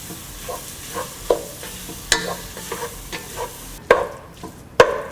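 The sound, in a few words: sautéing chili, coriander and turmeric powder in a pan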